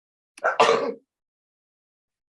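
A single short sneeze, close and fairly loud, a quick intake followed by a sharp burst lasting well under a second, then silence.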